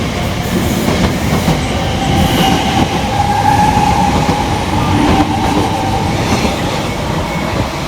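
Elizabeth Line unit 345038 pulls away on the Great Eastern Main Line, a steady loud rumble of rolling stock with rail clatter and a faint wheel squeal throughout, no voices.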